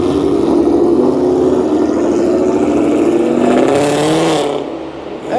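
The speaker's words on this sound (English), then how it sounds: "Get a good sound of the exhaust here." Ford Mustang with a Coyote V8 throbs loudly nearby, its exhaust holding a deep rumbling idle before revving up briefly and then easing off.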